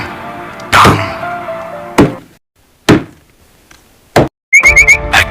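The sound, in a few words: axe chopping a tree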